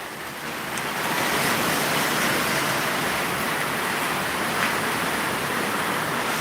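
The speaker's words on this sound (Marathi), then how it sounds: "पावसामध्ये वारं बघा कसं फिरतोय" Monsoon storm with wind and heavy rain, a dense, steady roar of downpour and gusts that swells after the first second and holds loud and constant, no voices.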